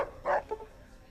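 Rex, a dog in the Fallout: Tale of Two Wastelands game mod, gives one short bark followed by a softer yip, heard fairly close against a quiet background.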